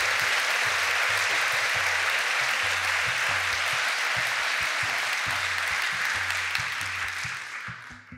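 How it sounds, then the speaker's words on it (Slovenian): Sustained applause from a crowd, dense steady clapping that fades toward the end, with a low rhythmic hum underneath. "Mislim, da si en aplavz zaslužil"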